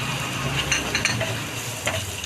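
Chilli and coriander powder sautéing in oil in a pan for an okra masala, a soft steady sizzle broken by light scraping stirs of a spoon against the pan.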